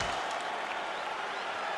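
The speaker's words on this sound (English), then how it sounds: "This crowd is on its feet." A packed UFC fight crowd in Houston cheers and applauds steadily, a dense, continuous roar of clapping and voices heard from within the arena.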